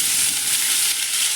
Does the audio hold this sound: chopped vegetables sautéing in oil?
yes